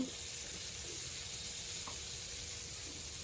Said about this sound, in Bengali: জিরা দিয়ে দিচ্ছি আলু ভেজে নেব সুন্দর করে